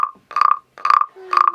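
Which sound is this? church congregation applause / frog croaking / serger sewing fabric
frog croaking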